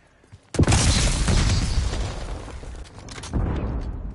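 Frag grenade going off in the shooter game Call of Duty: Black Ops 6: a sudden loud boom with a long rumbling, crackling tail, then a second burst of debris noise, close and without talk.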